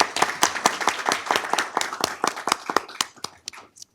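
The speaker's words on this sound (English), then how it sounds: "give her a round of applause" An audience at a school board meeting claps in a short burst of close, distinct hand claps that thin out and stop after about four seconds.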